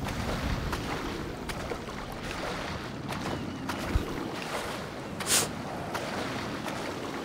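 Swimming in the sea in the video game GTA, heard as steady water sloshing and wind-like rushing with occasional small splashes, continuous and moderately quiet, with no talk.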